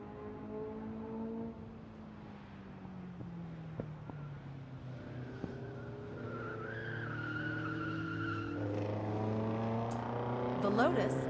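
Race cars on a track, a Lotus followed by a Porsche, a Corvette and another Porsche, with engine notes rising and falling steadily as the cars run past over about eleven seconds.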